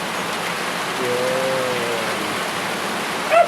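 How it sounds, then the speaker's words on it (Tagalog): Heavy rain pours down outdoors in the Philippines while pork adobo is being cooked, a dense, even hiss held steady throughout, with a brief voice near the start. "Malakas yung ulan dito sa amin mga badi."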